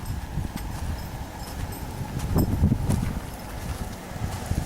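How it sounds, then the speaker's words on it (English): Horses run outdoors on a rainy day, their hooves clip-clopping in a quick, uneven patter at moderate distance over soft rustling and wind. "Oh, there's those horses."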